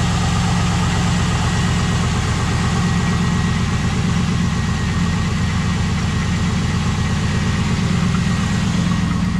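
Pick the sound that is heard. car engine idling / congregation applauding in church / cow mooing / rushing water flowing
car engine idling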